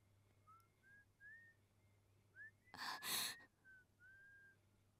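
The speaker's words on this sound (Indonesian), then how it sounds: "Itu suara yang sama. Itu yang bersiul di gereja." A person whistles a faint, thin tune of short rising notes, heard alone against quiet background hiss with a brief breathy burst midway.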